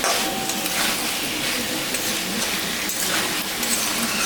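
Taro stolons tossed into a frying pan for a fish curry and stirred, a continuous loud hiss of sizzling with faint scraping and light rustling throughout, no voices present.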